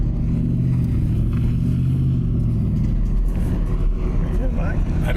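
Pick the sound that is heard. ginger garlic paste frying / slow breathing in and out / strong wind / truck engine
truck engine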